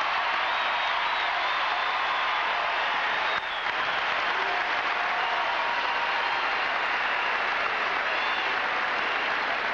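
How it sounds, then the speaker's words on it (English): A large crowd at the 1986 Louisville NCAA championship celebration claps and cheers in a steady, dense wash of applause that stays loud throughout with no break. "give a big round of applause to the University of Louisville's number one fan"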